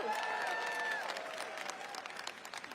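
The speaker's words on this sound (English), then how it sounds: "oh, we can cheer for that" A convention audience of union members claps and cheers for several seconds, a dense spread of applause with a few whoops that gradually thins out.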